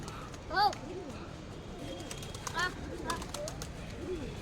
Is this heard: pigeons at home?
yes